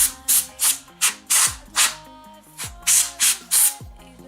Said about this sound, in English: you get your Ultra Duster, and don't forget to remove the top one. That way you guys can spray it.